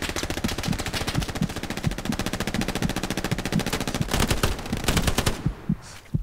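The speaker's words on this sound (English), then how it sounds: "Who is shooting me?" Sustained automatic gunfire in the World War II shooter game Hell Let Loose: loud, rapid, evenly spaced bursts that run continuously and end in a few scattered final shots, with no talking.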